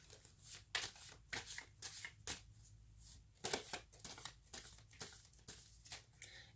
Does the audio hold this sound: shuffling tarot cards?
yes